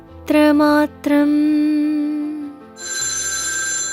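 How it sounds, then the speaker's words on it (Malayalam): A telephone rings loudly and close with two bright electronic ring bursts separated by a short gap, followed by a steady tonal hum, with no talk. "ജഹാംഗീറിന്റെ ഫോൺ ഒറ്റ റിങ്ങിൽ തന്നെ കണക്റ്റഡായി."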